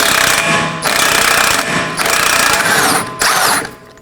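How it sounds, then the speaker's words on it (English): An impact wrench with a 32mm socket hammers on the rear axle nut of a 2018-2024 Chevrolet Equinox 1.5L during a passenger-side CV axle replacement, loud rattling bursts in three runs separated by short pauses. "I'll be using a 32mm socket and an impact wrench."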